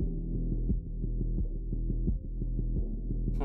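A low, steady throbbing hum pulsing in a regular rhythm like a heartbeat, ending with a sudden bright rising burst: the summon pulse effect in the video game 20 Minutes Till Dawn.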